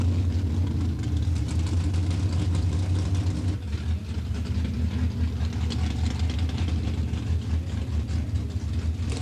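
Pro stock drag racing cars idle at the 1995 Winter Nationals, a loud continuous low rumble of big engines with a rough lopey beat, steady throughout and briefly dipping partway before carrying on.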